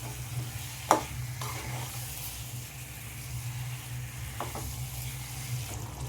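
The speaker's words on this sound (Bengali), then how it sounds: "দিয়ে আবারও আমি চিকেনটা ভালো করে 6-7 মিনিটের মতো ভালো করে কষিয়ে নেব" Chicken with spices and a little water is stir-fried in a pan for biryani, giving a steady close sizzle punctuated by a few sharp scraping stirs.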